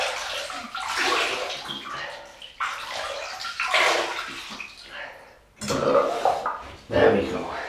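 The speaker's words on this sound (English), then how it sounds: "Okay, so I'll just wet the face and we get going." Water splashes and sloshes in repeated handfuls as a man wets his face before a shave with a double-edged safety razor, close and fairly loud, in several bursts with short pauses between them.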